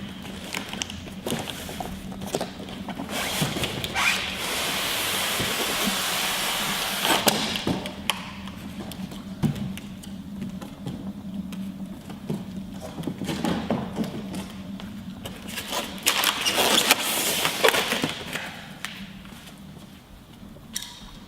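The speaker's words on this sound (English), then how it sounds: "Carefully open the packaging." Packaging of an Airwheel X3 electric unicycle being opened, with continuous rustling, scraping and crinkling of film and cardboard, punctuated by occasional knocks and thuds, fairly close and steady throughout.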